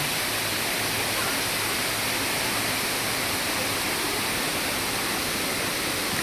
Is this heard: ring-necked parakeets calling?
no